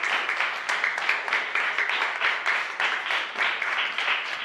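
A crowd gives warm applause in honour of a top-ranked student, a steady, fairly quiet wash of many hands clapping at once, rising and falling slightly in small waves throughout.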